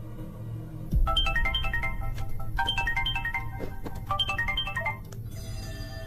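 A phone ringtone signals an incoming call: a bright, tinkling melodic pattern plays three times in quick runs, clear and moderately loud over a low background hum.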